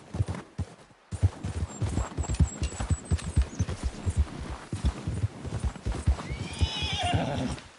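A horse in Red Dead Redemption 2 trots with a clear, rhythmic clip-clop of hooves that carries on steadily, then finishes with a loud, rising neigh near the end.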